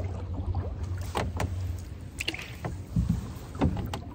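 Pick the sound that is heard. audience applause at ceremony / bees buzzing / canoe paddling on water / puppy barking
canoe paddling on water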